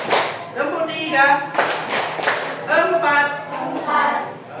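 A class clapping game: a group claps in short bursts and patterns while a teacher calls out the counts over them.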